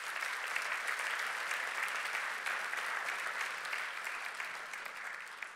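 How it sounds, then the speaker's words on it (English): Sustained applause from a church congregation, dense steady clapping throughout at an even level with no speech over it. "Could you show your appreciation to them by a round of applause?"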